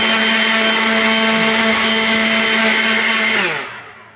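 An electric blower blasts dust from the chassis of a 1962 Telefunken Concertino radio, a loud, steady motorized whine held close up before it winds down and stops near the end.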